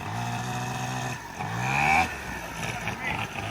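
A stunt motorcycle engine idles and revs under a steady drone of mechanical noise, with a short rise in pitch midway, loud and close.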